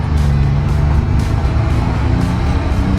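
Old factory Ford crew cab truck cruising, heard from inside as a steady low engine rumble and road drone with no talk.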